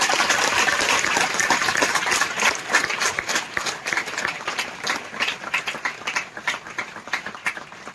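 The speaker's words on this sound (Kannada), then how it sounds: "ಜೋರಾಗಿ ಚಪ್ಪಾಳೆ" An audience at a yoga gathering claps loudly and continuously, a dense wash of many hands that slowly thins out toward the end.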